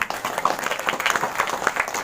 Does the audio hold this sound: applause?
yes